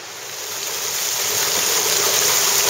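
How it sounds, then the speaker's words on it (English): A waterfall spilling from a river into a cistern roars as a dense, steady rush that swells slightly louder, with no voices. "this cistern waterfall overflowing from the river"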